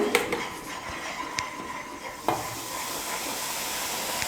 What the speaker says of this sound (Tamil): இப்போ மீதி இருக்கிற எல்லா நெய்யும் சேர்த்து இப்போ நான் நல்லா கலந்துக்க போகிறேன்